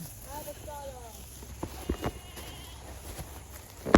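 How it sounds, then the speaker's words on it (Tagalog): Goats bleat a couple of times in quick, wavering calls, followed by scattered thuds and scuffing footsteps nearby. "Ang ingay ng kambing."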